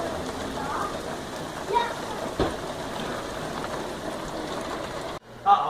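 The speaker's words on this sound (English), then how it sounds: "The entire week we've got nothing but rain and storms." Steady rain patters and hisses on a surface, with a few louder drips and knocks, before the sound cuts off abruptly near the end.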